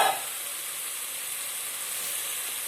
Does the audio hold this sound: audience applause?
no